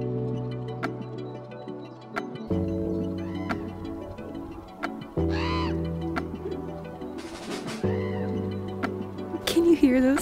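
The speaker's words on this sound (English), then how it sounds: "Hear those talkative ravens or crows." Ravens or crows caw in Olympic National Park, a few harsh calls scattered through the air above a steady musical backdrop, fairly clear but not close.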